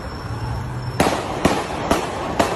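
Gunshots from a played recording of a security guard firing at a man in New Orleans, four sharp bangs spaced about half a second apart over a dull background, moderately loud with no speech.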